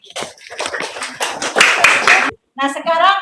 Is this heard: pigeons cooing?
no